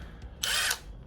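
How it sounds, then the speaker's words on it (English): A flexible drill bit bores out a lower trunk strut pivot stud on an SN95 Mustang, one short loud burst of high drill whine that starts and stops abruptly against quiet background. "try to drill it out so that we can get a new pivot stud in there"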